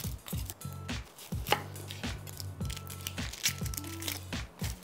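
A knife slices an onion into wedges steadily against a cutting board, quick repeated taps with a faint crunch, close up and without any talking.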